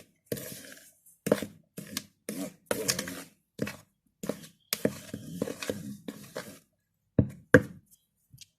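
Yeast, sugar and powdered milk are stirred into flour in a bowl for chicken and cheese pastries, making close, intermittent scraping and knocking bursts with short pauses between strokes.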